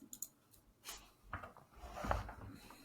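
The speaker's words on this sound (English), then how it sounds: "I can hear your freaking mouse click." Sharp mouse clicks from a gamer's computer mouse during an online Formula 1 trivia head-to-head, a few crisp taps near the start and then scattered clicks among soft desk rustles and faint background noise, no talk.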